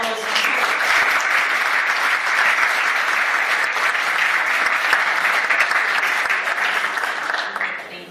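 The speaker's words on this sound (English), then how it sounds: "A big round of applause for all those." A sustained round of audience applause at a poetry award reading in an art museum, dense and steady clapping filling the room for about eight seconds before tapering off at the end.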